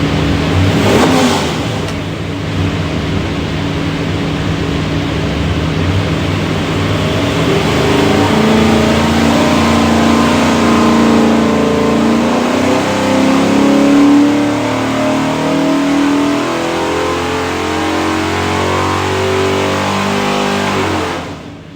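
A 408 Windsor V8 built for a 1969 Ford Torino GT roars through a full dyno pull, loud and close, climbing steadily in pitch as it revs for about twenty seconds before easing off.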